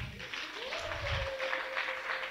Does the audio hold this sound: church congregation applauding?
yes